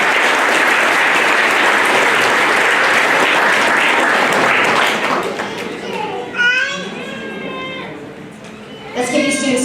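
Loud, dense applause for middle school students at an academic awards ceremony, sustained for about five seconds and then breaking off into scattered claps, children's chatter and a few high excited voices in the room.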